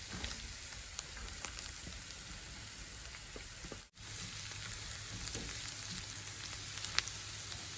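Garlic sizzles in hot oil in a pan while cooking chicken bopis, a steady crackling fry with fine popping spatters throughout and a brief dip in the middle as ingredients are added.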